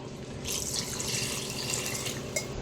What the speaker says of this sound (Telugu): ఇప్పుడు మనము సరిపడా వాటర్ వేసేసుకుందాము